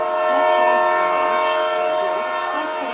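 A train sounds its horn in one long, loud, sustained blast over a rumbling background, used as an effect in a Bengali horror story about a late-night train.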